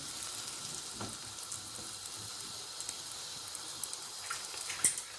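Kaygana egg batter fries in a pan with a steady, fairly quiet sizzle and soft crackles, close up, with a few small clinks near the end and no talk.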